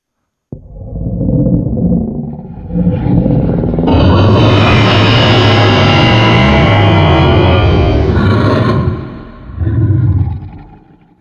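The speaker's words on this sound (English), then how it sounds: "Now let's hear the dragon roar." A dragon roar built from a dog bark swells into a long, loud, rumbling bellow that fills several seconds, then fades and returns as a shorter growl at the end.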